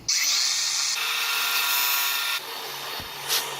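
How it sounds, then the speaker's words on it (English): A grinder strips paint from a car body with a loud, steady high-pitched whine and abrasive rasp. It eases to a lower, lighter grind partway through, then gives a brief final surge. "I have a grinder."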